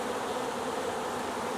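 Honeybees buzzing at a newly split colony in hot weather, a dense, steady, close swarm drone with no pauses and no voices.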